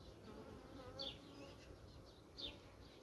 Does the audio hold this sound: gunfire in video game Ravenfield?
no